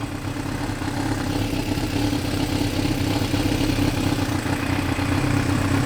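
A barn-find Suzuki GSX-R750 motorcycle engine runs steadily at idle, a close, loud and continuous rumble with mechanical clatter and no voices.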